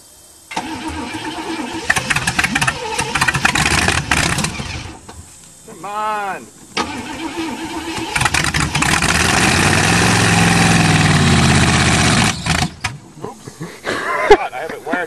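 An old Chevrolet engine on a cold start: the starter cranks in several tries before the motor catches and runs at a rough, loud idle, then cuts out, with voices talking around it.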